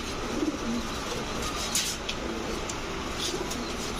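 Soft coos from racer, giribaz and fancy pigeons at a pigeon market repeat at intervals over a steady background hiss, a few low throaty calls close by.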